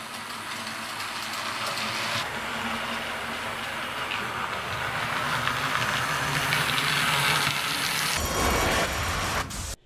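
A restored miniature model locomotive runs on a layout, giving a steady, close whirring rumble with hiss that holds for several seconds before cutting off abruptly, with no talk.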